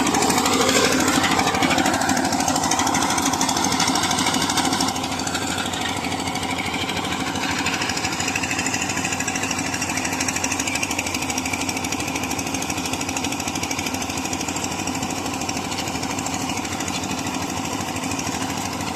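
A loud, steady tractor engine drone runs throughout with a harsh mechanical rattle, a bit heavier at the start, with no voices, during a pigeon pea harvest.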